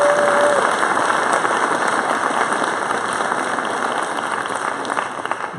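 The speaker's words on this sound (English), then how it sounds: "So y'all just clap it up." An audience at a college talk claps together in a dense, sustained wash of applause that holds steady and fades slightly toward the end, with no voices over it.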